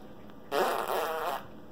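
An African grey parrot imitating a fart, giving one short, buzzy, close raspberry-like blurt lasting under a second, alone in a quiet room.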